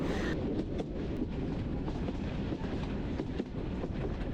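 A local train runs along, heard from the open carriage door, with a continuous rumbling roar, wind rush and faint clickety-clack of wheels, steady and close throughout.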